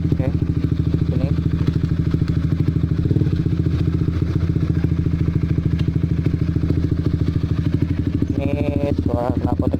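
A Honda CB150R with a Pro Liner carbon long exhaust idles with a rapid, steady, bassy throb, close and loud, and a brief voice is heard near the end.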